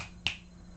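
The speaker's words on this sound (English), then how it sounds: "I just did a snap test." One crisp finger snap, close and clear over a faint background hum, made as a hearing test for a pregnant rescue cat named Lily.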